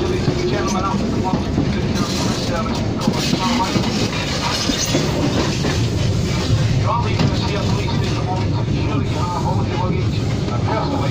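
LNER HST train running on the approach to Newcastle over the River Tyne, a steady loud roar with rumbling wheel noise through an open window, continuous throughout.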